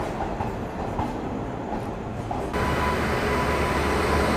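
The Mysuru–Arsikere passenger train arrives at the station with a steady rumble of wheels and carriages that swells louder partway through, close by, with no talk.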